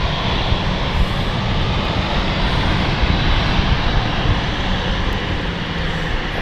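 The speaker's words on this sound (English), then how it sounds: "It's going to be the ITA Airways on final." An ITA Airways jet airliner, a brand new June 2024 aircraft, roars steadily on final approach at London City Airport, a loud continuous broadband engine rumble with no talk.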